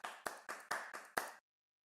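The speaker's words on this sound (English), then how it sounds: "I can clap" A presenter at a dental conference session claps their hands six times in an even rhythm, each clap crisp, close and moderately loud. The claps come about a quarter second apart and are followed by silence.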